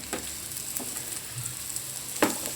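Okra frying with onions in a pan gives a soft, steady sizzle close by, broken by a few light stirring knocks.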